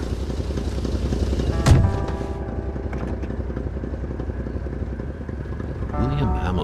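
Truck engine from the video game Kona, set in northern forests, rumbling steadily with a dense low drone throughout and a brief louder surge partway in.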